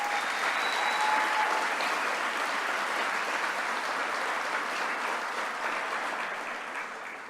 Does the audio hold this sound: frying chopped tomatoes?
no